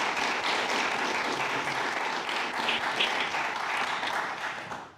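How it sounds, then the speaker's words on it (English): A university philosophy society audience in an evening lecture hall gives sustained applause welcoming Professor AC Grayling, a dense wash of many hands clapping steadily throughout and fading slightly at the end. "welcome him with a round of applause"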